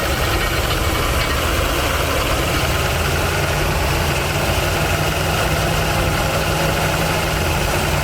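A 1979 Chevy G20 custom van engine runs steadily on a first drive after decades of sitting, a continuous low rumble with rough popping and spitting from a loading carburetor, close and loud with no talking.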